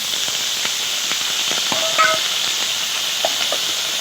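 Ginger, garlic, onion and tomato paste frying in hot oil in a pan, heard as a loud, steady close sizzle and hiss with scattered small pops and a brief clink of a spoon.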